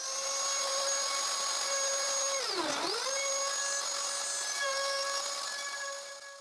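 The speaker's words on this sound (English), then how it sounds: "And I route the faceplate mortise." A router mills the faceplate mortise for a lock in a wooden ventilation window, giving a loud, close, steady high-pitched whine that dips in pitch as it bites deeper partway through, then trails off at the end.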